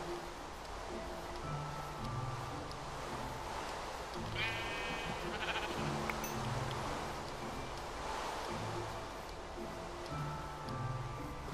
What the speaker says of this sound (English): I'm gonna go kill that sheep real quick.